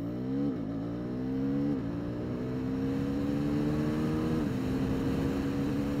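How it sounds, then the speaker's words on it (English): A Husqvarna Svartpilen 401 motorcycle accelerating hard in first gear, its engine note climbing steeply through a few quick rising sweeps between brief dips, loud and close throughout. "let us check out the acceleration, slotting it in first gear and in 3, 2, 1, go!"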